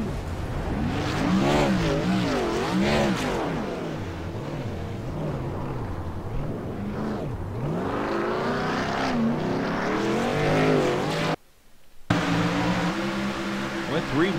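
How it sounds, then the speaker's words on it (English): Race cars in a PC racing video game roar and rev continuously, engine pitches sweeping up and down as cars jostle three wide, with a brief dropout near the end; commentary talks over the engines throughout. "Contact! Aaron Davis is spun around now."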